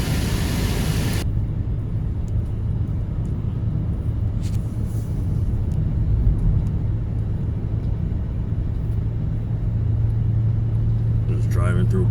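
A car rolls through Palm Springs with a steady low road rumble and tire hiss filling the cabin, holding constant throughout.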